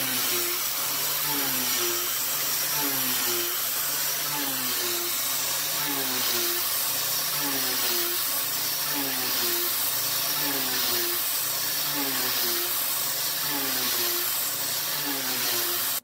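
A milling machine cuts with a YG1 3/8 inch three-flute end mill at 80 thousandths width of cut, giving a steady high whine with wavering tonal pitch over constant machine noise, close and continuous throughout.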